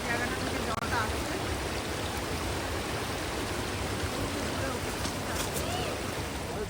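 Stream water flows steadily at the Moorti river in Dooars, a continuous broadband rush close to the microphone with no break across the clip.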